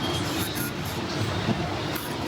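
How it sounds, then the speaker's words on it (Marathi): A fast local train in Mumbai rumbles along from inside the carriage, a loud, steady roar and rattle of wheels on track with no clear voices. "छानपैकी फास्ट ट्रेन पकडली आपण."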